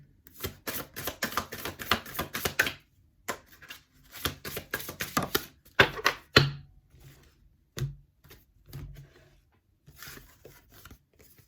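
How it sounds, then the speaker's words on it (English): Rapid riffling and flicking of cards comes in several quick bursts, close up, separated by a few soft thumps and pauses. "I have to split these to shuffle because they're too long"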